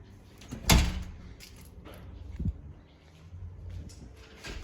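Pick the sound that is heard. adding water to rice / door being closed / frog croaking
door being closed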